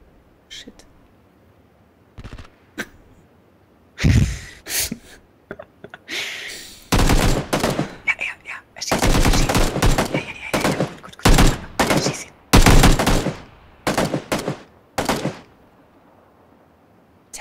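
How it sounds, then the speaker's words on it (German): Bursts of gunfire in a video game shooter, sharp volleys and short salvos at irregular intervals over several seconds, separated by near-silent gaps. "Du musst ihn erschießen. Ja, schieß drauf."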